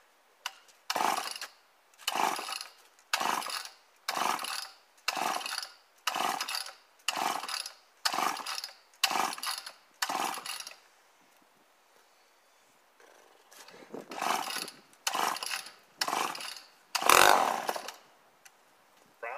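Grandpa's old Homelite XL12 chainsaw being pull-started, the choke set, about fifteen rhythmic rope pulls with brief cranking sputters, a pause, then a short burst as the engine catches briefly, loud and close.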